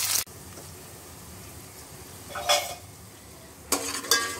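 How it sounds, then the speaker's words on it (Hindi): Chopped onions dropped into about half a cup of hot oil in a handi, giving soft bursts of sizzle and stirring clatter at intervals over a quiet background. "हांडी में मैंने अराउंड 1/2 कप ऑयल को गर्म कर लिया है और इसमें हम ऑनियन डालेंगे जो हमने चॉप किया है"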